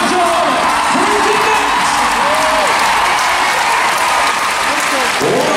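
Arena crowd applauding steadily at the Horse of the Year Show scurry driving championship, a dense continuous roar of clapping with scattered whoops and cheers, a commentator's voice rising over it.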